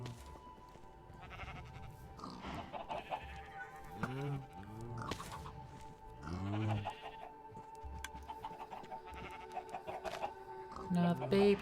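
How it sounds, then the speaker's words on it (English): Chickens in the Minecraft video game, including a baby chicken, cluck repeatedly in short bursts over a steady in-game hum and scattered blocky game noises. "Another baby chicken."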